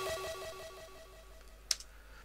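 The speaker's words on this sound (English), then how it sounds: "Up next I've got this little computerized bleep sound." Small computerized bleep synth sound with distortion and ping pong delay in a jungle drum and bass track, quick repeating electronic blips echoing and fading, ending with a brief sharp high click.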